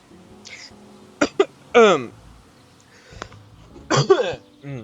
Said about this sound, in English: Sorry, a little bit of a cough.